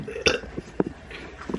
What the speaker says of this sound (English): I threw up a little bit when I burped.